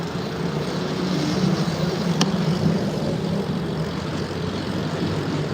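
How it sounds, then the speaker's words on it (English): Seaplane passing overhead above a New York City waterfront, a steady distant engine drone blended with broad outdoor city noise, even and moderately loud throughout. "Look at that water plane, that's wild."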